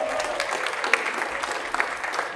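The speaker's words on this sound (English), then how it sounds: "Give her a round of applause." A school orchestra audience at a young people's concert gives a short, steady burst of applause, fairly close and even, with scattered sharper claps standing out.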